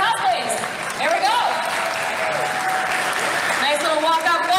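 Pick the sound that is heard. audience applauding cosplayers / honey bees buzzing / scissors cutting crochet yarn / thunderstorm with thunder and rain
audience applauding cosplayers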